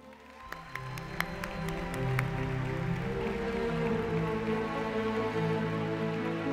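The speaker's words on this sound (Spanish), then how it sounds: "fuerte aplauso" Applause from a convention audience builds after a few sharp claps and continues as a steady, moderately loud patter of clapping under a faint background hum.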